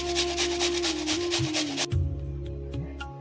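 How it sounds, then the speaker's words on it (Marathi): Peeled beetroot is grated by hand, rapid rhythmic rasping strokes close to the microphone that give way to a few slower, separate scrapes. "मी बीटरूटला स्वच्छ धुवून घेतलंय, त्याला पील करून घेतलंय आणि आता यांना आपण छान किसून घेऊया।"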